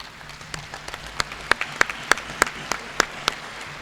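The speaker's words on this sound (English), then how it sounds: "give a round of applause to Dr. Jenaba C. and her team, please" Sparse, scattered handclaps at a health sector achievements event ring out over a room murmur, growing a little sharper and more regular toward the end.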